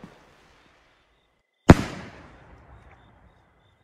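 Ball rocket firework launching with a tail in a fireworks video game, heard as one sudden sharp bang after near silence, trailing off into a crackling, hissing decay lasting about a second.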